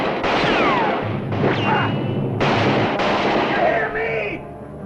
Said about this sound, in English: No more shooting!